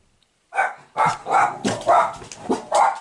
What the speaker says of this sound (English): Sorry if you hear my dogs barking,